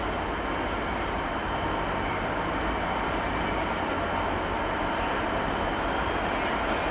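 Freight train wagons roll steadily past at Cardiff Central station, a continuous loud rumbling roar with rail noise that fills the whole stretch without break.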